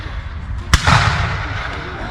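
A single loud musket shot cracks out at a Battle of Alamance re-enactment outdoors, followed by a rolling, fading boom, with crowd noise and voices around it.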